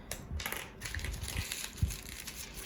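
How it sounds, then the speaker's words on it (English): Newspaper is crumpled into a ball by hand, close and fairly quiet, giving a few seconds of irregular crackling and rustling bursts with no talking. "crumple it nicely"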